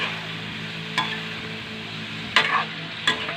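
Food being stirred in a frying pan, a steady sizzle with a few sharp scraping strokes of the utensil against the pan, close and moderately loud, no voices.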